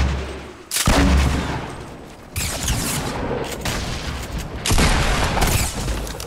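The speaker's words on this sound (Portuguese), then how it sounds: "A gente trocar tiro aqui." Gunfire exchanged in the Fortnite video game, loud bursts of rapid shots in several dense volleys, with brief lulls between heavy clusters of firing.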